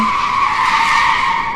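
A car in the Roblox horror game Scary Shawarma Kiosk skids with a loud, sustained tire squeal that holds a steady high screech for over a second before cutting off, close and alone.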